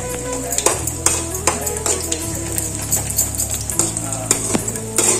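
Edible gum (dink) frying in hot oil for festival laddoos, a steady close sizzle broken by repeated scraping and clinking of a slotted metal spoon stirring in the pan.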